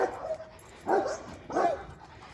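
Several dogs by the side of a road bark in short, repeated bursts, a couple of sharp yips standing out against steady background noise; the barking sounds moderately close.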